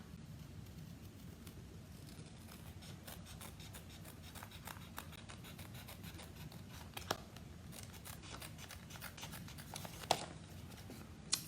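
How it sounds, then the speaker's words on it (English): Paper snips cutting along the flap of a handmade Halloween card envelope, faint repeated crisp snipping and rustling of paper close by, quiet throughout with a few sharper clicks near the end. "And I'm just gonna cut along the flap."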